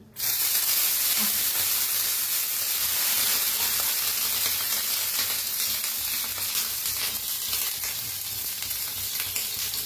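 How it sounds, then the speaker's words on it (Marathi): Loud, steady sizzling hiss from water sprinkled on a hot, oiled griddle for Mysore dosa, starting abruptly and continuing strongly throughout. "आणि त्याच्यावर शिपडायचं पाणी."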